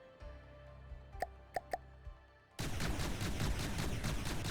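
AP frag shells from an APS turret in the video game From the Depths fire as three sharp, quick reports over a low hum, then a loud, sustained rattling barrage of rapid impacts takes over.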